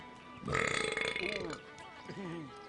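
A loud, drawn-out burp, followed by softer throaty vocal sounds.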